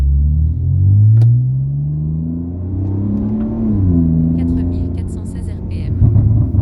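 A car engine revs on a race track at Mireval, its pitch climbing and falling through the gears in a loud, close, continuous drone with brief higher whines near the end.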